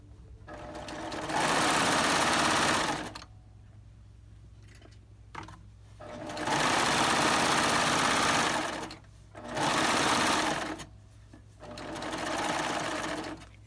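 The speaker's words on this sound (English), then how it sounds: "we're going to take it back to the serger and we're going to serge the inseam" Serger sewing machine stitching a curved inseam on shorts, running in four loud sustained bursts of whirring motor buzz separated by short quiet pauses.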